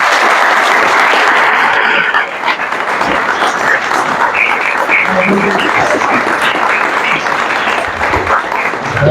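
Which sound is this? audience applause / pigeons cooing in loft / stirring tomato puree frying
audience applause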